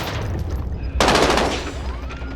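Burst of automatic gunfire in a battle royale video game erupts suddenly and loudly partway through, a dense rattle of shots over a constant low game hum, with no talk.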